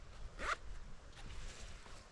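A zipper on a side pocket of a Naturehike Rock 60L backpack gets a quick, sharp zip pull, followed by softer fabric rustles, all quiet and close.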